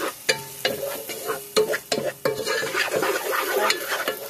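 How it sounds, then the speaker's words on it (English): Onions seasoned with Cavendish seasoning sautéing in a pan for vegetable fried rice, soft sizzling broken by several sharp clanks and scrapes of a utensil stirring against the pan. "I gotta put some cavendish on my onions. Saute them."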